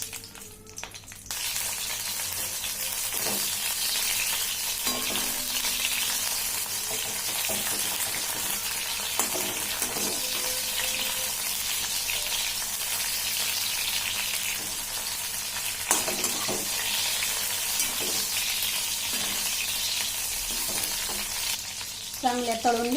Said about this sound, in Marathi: आता त्याच्यामध्ये सर्वात पहिले ना मिरच्या थोड्याशा तळून घेते मी